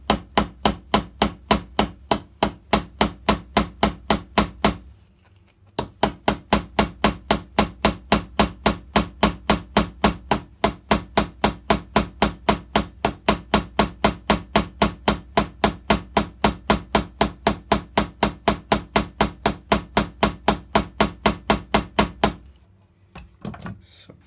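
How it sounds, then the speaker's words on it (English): Rapid, steady metallic taps of a ball peen hammer peening a rivet head on a Victorinox Cyber Champ Swiss Army knife, dozens of blows in an even rhythm with two short pauses. "now you use your ball hammer here and make the head of"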